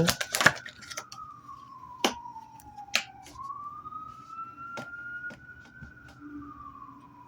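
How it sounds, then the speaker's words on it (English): A siren passes outside, its long wailing tone sliding down and back up at moderate distance, with scattered clicks and snaps over it and no speech. "There's a siren"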